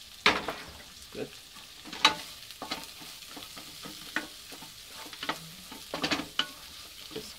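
Rice with diced Chinese bacon and egg stir-fried in a pan, a steady close sizzle broken by repeated scraping strokes of the spatula at an uneven rhythm, with no talking.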